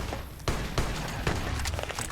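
Gunfire in Fallout: New Vegas, with three or four sharp, loud shots spaced irregularly over a constant rumbling game background.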